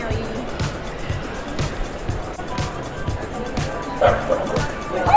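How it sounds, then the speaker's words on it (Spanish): A small dog barks repeatedly in short yaps with a few whimpers inside a busy airport terminal, echoing over crowd murmur and background talk. "Oh, mira el perrito. ¿Por qué le ladra chiquito?"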